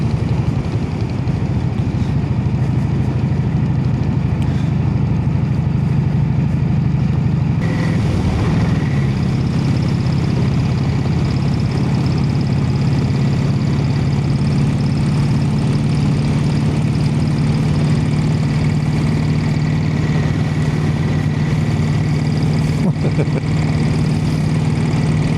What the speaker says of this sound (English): What it's like riding a bike with hand change that can do 100 miles an hour.